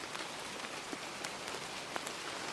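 Rain falls steadily in a soft, even patter, with scattered sharper drips hitting a surface across a continuous faint wash.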